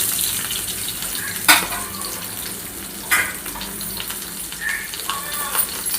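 Onions frying in ghee in a pan, with a steady soft sizzle throughout and a few louder stirring scrapes and bursts of crackle.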